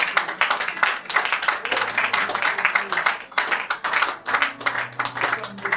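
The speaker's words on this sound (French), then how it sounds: "Est-ce que tu peux acclamer?" A church congregation claps and cheers during a worship service, with dense, rhythmic applause filling the room and voices raised over it.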